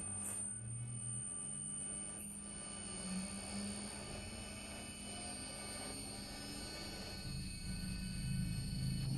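Electric motor on a type DT VFD inverter running forward, giving a faint, steady electrical whine with a low hum underneath that holds even throughout.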